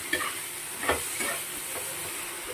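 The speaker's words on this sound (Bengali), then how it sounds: "একটু নুন হলুদ দিয়ে ভেজে তারপরে দেবো আদা" Salt and turmeric fry in hot oil before ginger and chilli paste go in, a soft steady sizzle with a few scraping stirs spaced through the short stretch, close and fairly quiet.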